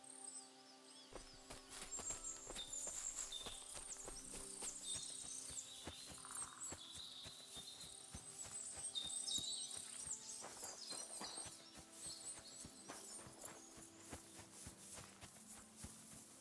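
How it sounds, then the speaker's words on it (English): Steady clip-clopping of horse hooves at a fortress in the video game Kingdom Come: Deliverance II, over a busy ambient bed with chirping insects, continuous and moderately loud throughout. "Lovely horses you have here."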